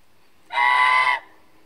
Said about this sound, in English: This is the guard bird.